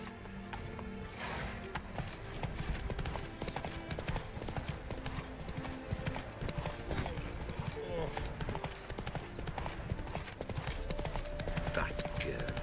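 Roach the horse galloping in The Witcher 3, steady hoofbeats running under dense game music and sound effects with voices speaking over them.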